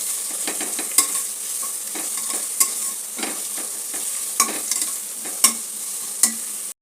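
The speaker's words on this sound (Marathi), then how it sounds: "कांदा आणि हिरवं वाटण आपलं परतून झालं आहे" Onion and green paste of dried coconut, coriander, ginger and garlic sizzle in a pan as a spoon stirs them, with a steady frying hiss broken by sharp scraping clinks every second or so.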